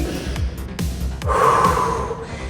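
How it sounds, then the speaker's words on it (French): Heavy, rapid breathing after a dumbbell strength workout, a series of close, audible gasps and snorting exhales in an uneven rhythm, with no talking. "Vous êtes peut-être essoufflé si vous avez mis du tempo dans l'exécution."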